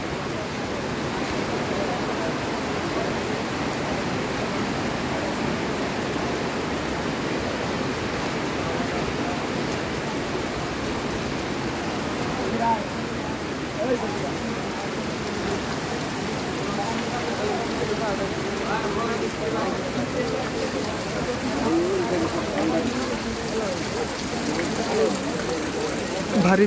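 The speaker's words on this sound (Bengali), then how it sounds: "ভারী বৃষ্টি হচ্ছে।" Heavy rain pouring steadily over a large open field at an outdoor religious gathering, a continuous even hiss with faint voices underneath.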